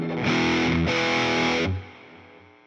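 An electric guitar played through a Fender Tone Master Pro on the Maximus drive setting: two loud, heavily distorted chords ring out, the second cut short and left to decay into amp noise.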